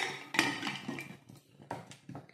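A metal lid set onto a pressure cooker holding soaked samak rice, water, salt and coriander leaves for a Navratri fasting meal, with a sharp clank followed by several lighter metallic knocks and scrapes close by, no talking.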